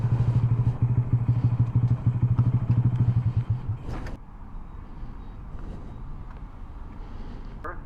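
A Honda Grom motorcycle engine drones loudly with a steady pulsing beat up close for about four seconds, then drops away, leaving wind rush and road noise with no talking.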